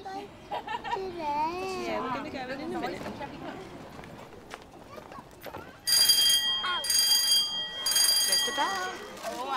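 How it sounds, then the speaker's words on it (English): A school bell rings in two bright, sustained metallic bursts near the end of a children's programme, following someone speaking in a sing-song voice and light hoof-like clopping. "When the bell rings, school begins."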